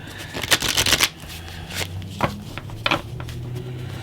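Angel cards shuffled by hand for a tarot reading, heard close up as several quick riffling bursts with short pauses between them.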